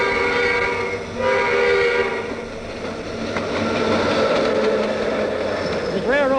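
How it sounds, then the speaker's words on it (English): An Illinois Central train runs on the line toward Haleyville in Winston County, Alabama, with a steady loud rumble of rolling cars and a whistle tone sounding throughout, then a rising horn blast near the end. "This Illinois Central train is on time, headed for Haleyville, largest town in Winston County, Alabama."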